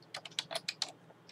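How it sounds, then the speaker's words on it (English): Computer keyboard typing a command, around eight quick, crisp keystrokes in an uneven rhythm, heard close and fairly quiet with no talking. "Now the next thing you want to do is type"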